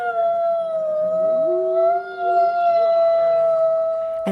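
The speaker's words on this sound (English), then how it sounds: "that is what a wolf howl actually sounds like" A wolf howls in a long, steady, sustained tone, with a second, lower wavering howl joining partway through, near and clear with no talk, at a wolf conservation center.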